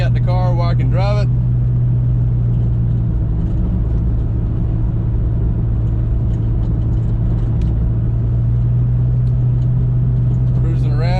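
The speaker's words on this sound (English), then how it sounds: "Got the car where I can drive it." Saleen-tuned car with a newly fixed axle bearing and a boost leash installed, driven on a rainy test run; a steady low engine drone with road rumble fills the cabin, with brief voice bits at the start and end.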